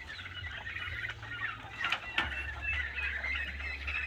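Native chickens, geese and turkeys on a farm give off a steady mix of clucks and squawky calls at moderate distance, with a few sharper cries standing out over a low continuous hum.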